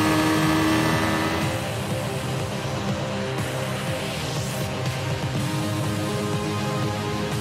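Yamaha R15M V4 155cc sport motorcycle engine running steadily and loud, a continuous close mechanical drone with slight rising revs, heard alone without talk.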